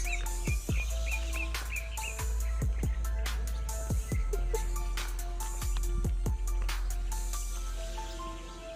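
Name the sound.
birds singing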